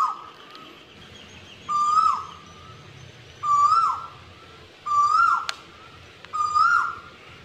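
A bird repeatedly calls in a rubber plantation forest, five evenly spaced whistled hoots, each a short bright note with a quick upward flick, clear and fairly close over a quiet background.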